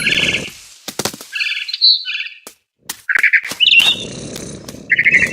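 Mother bird in the video game What Remains of Edith Finch chirps in short, bright bursts of tweets and squawks, with brief flutters and gaps between calls, close and clear.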